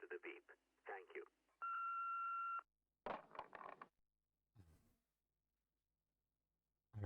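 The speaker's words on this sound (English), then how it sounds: "Please leave a message after the beep." A voicemail beep from the Hypnospace Outlaw video game sounds as a single steady electronic tone of about a second, clear and isolated. Short bursts of recorded speech come before and after it.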